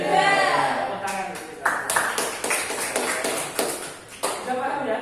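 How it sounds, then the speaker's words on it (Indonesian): Students in a classroom clap their hands in a quick run of sharp, close claps, some grouped in rhythmic bursts, after a teacher's voice at the start. "tepuk tangan."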